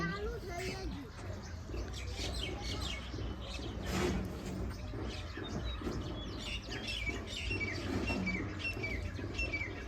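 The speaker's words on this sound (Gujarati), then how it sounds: "કાબર" Several myna bird calls chirp and whistle over a busy outdoor background, with voices and children's chatter mixed in.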